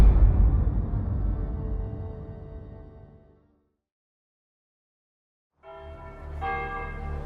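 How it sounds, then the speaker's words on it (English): Cathedral church bells ring after a mid-morning Sunday Mass, a loud resonant peal that decays into silence for about two seconds before the bells strike again and keep ringing. "The bells at St. Hulvard's Cathedral were ringing after the mid-morning Sunday Mass."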